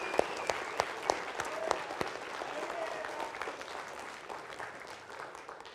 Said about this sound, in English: would you give him a round of applause, please, Dr. Solomon?